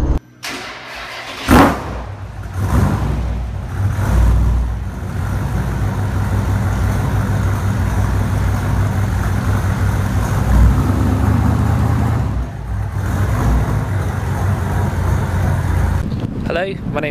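A 1969 Jensen FF starts with a sharp crank and catch, then its engine idles and revs in a loud, steady rumble close by, with brief talk early on.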